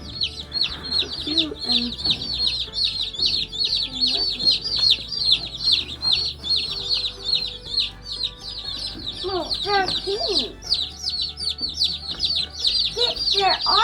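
Young meat-bird chickens on a homestead giving a dense, continuous chorus of high peeping and clucking, close by, with children talking now and then over it.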